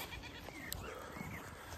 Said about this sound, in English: Donkey's going crazy.